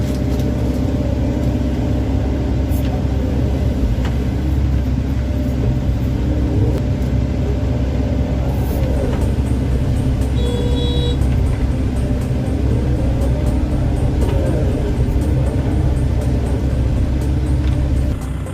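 An SDLG E6135F excavator operating on farmland, its steady low diesel rumble and hum continuing loud and unbroken throughout, with a faint whine rising briefly midway.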